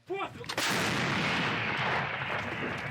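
One heavy artillery blast from an M307A2 howitzer booms out and rolls away in a long, rumbling echo.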